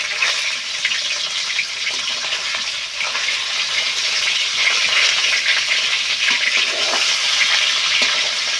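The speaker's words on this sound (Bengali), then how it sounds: "এখন আমরা উল্টায় দেবো যাতে মাছটা দুই পাশে ভালো ভাজি হয়।" Rui fish fry in hot oil in a pan, giving a loud, continuous sizzling hiss with small crackles and no pause throughout.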